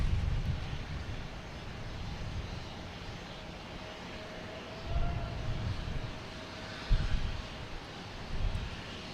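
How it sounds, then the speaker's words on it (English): A JetBlue Airbus A220 takes off at Boston Logan, a distant, fairly faint engine roar with low rumbling swells building toward the end. "And we got JetBlue here, taking off heading to Savannah. An A220,"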